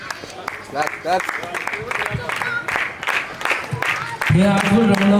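Scattered clapping from a crowd at an inter-school photography contest prize ceremony, mixed with overlapping chatter and children's voices, followed by a louder voice at the end.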